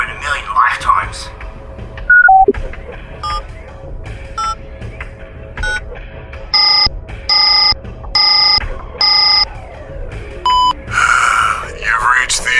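A telephone being dialed aboard a starship bridge: a series of short electronic dialing tones, several evenly spaced beeps in a row, then a longer warbling tone, with faint background sounds between.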